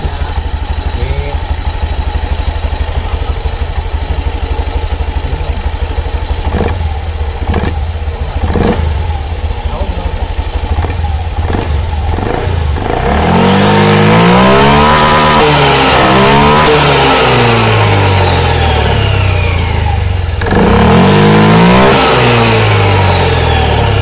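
A 2023 Honda Beat FI automatic scooter with its standard CVT idles steadily, then revs up hard twice in loud, close rising and falling surges.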